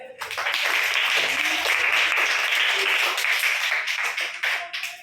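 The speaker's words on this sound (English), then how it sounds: "Please give a big clapping for them." Sustained clapping from a classroom audience applauding a group of students after an English reading exercise, loud and steady for about five seconds before tapering off, with a few voices mixed in.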